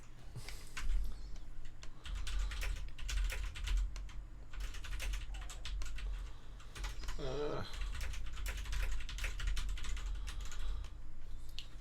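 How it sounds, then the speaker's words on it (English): Fast computer-keyboard typing clatters steadily and close, with dense clicky keystrokes in bursts and one brief pause, while a voice is faintly heard in the background. "Clicky clacky with a keyboard."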